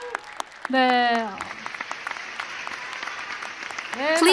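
Audience applause breaking out at a mantra chanting festival, a dense burst of clapping that swells in the middle and rises again near the end, with chanting voices sung over it at the start and close.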